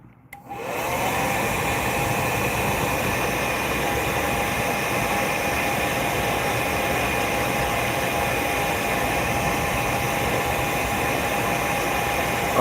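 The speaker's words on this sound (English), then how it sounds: "I'm gonna heat set that real quick" A heat gun blows a steady, loud roar of hot air to set airbrushed paint on a fishing lure painted as a juvenile rainbow trout, starting abruptly and holding constant without talk.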